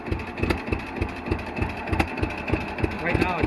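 A propane-powered 1948 John Deere B tractor engine idling close by with a stock setup and a modern distributor. It gives the slow, loping, evenly spaced putt-putt of a two-cylinder engine, loud and steady and heard on its own.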